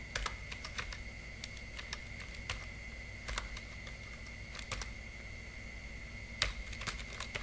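Keys clatter on a computer keyboard while a spreadsheet is edited in Excel, a steady run of close, crisp clicks with a few sharper strikes, heard alone without any voice.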